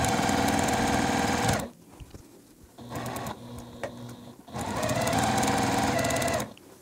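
Sewing machine chain piecing fabric for a quilt block, running in two loud steady bursts of stitching separated by a quieter pause with softer handling noises.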